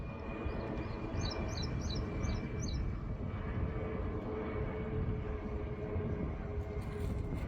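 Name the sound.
airplane flying overhead near the airport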